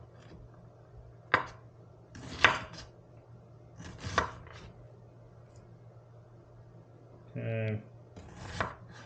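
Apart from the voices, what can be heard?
chopping an onion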